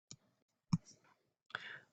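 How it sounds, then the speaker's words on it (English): A sheet of paper rustles in a few short, faint crinkling bursts, with two quick handling taps early on and a longer scraping rustle near the end, in an otherwise quiet room with no talking. "you can hear the paper rustling because I've pre-written this one"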